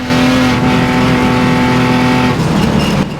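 A Ford Falcon race car's engine held at its speed limiter at about 176 km/h, a loud steady drone with a fixed pitch for about two seconds, then breaking into rougher road and engine rumble.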